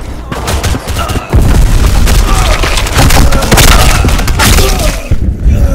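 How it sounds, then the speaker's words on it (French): Grenade explosions in the Black Squad shooter game, dense loud booms and crackling blasts mixed with gunfire across the whole stretch, with a voice talking under the noise. "Les grenades."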